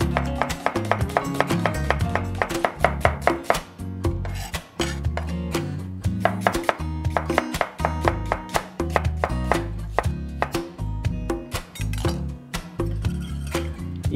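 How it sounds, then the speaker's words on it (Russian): Rapid, steady knife strokes slice an onion into thin strips on a board, crisp, close and loud, in quick bursts with brief pauses. "Лук нарезаем тонкой соломкой."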